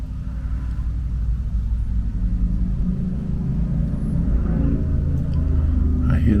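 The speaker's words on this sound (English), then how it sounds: "I hear the cars outside." Steady low rumble of cars passing on a road outside, a continuous distant traffic drone lasting throughout with no distinct individual pass-bys.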